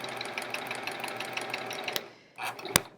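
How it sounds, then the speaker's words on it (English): A home sewing machine chain-piecing quilt blocks runs in a rapid, steady close-up whir of needle strokes for about two seconds, stops, then gives a brief burst and a sharp click. "we're just sewing one right after the other"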